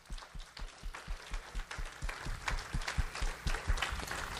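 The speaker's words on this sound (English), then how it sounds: "I think you can give the Lord a hand clap of praise for that" A church congregation claps hands in praise, a rapid run of sharp, fairly close claps that merges into a sustained round of applause, with no talking over it.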